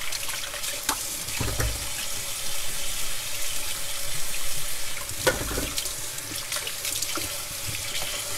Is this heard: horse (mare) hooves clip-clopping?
no